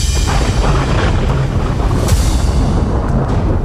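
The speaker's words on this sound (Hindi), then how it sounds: "मेक्सिको का सबसे खतरनाक ज्वालामुखी फटा है।" Popocatépetl volcano erupting in central Mexico, a loud continuous deep rumbling roar with dense low-end energy, steady throughout without clear separate blasts.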